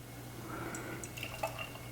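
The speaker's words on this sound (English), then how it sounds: "Let's give it a pour." Gusto Brewing imperial stout poured from the bottle into a glass, a soft gurgling splash and dripping trickle close by, fairly quiet against a low hum.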